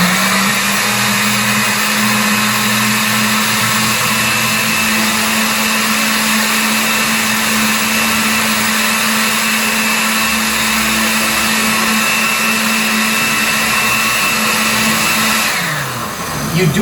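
A blender running continuously on flan batter for a Brazilian condensed-milk pudim, a loud steady motor whine holding an even pitch throughout before briefly dipping at the end, close and alone.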